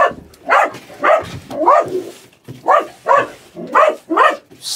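A dog outside barks repeatedly in a steady series of about eight loud, close barks, each short and evenly spaced.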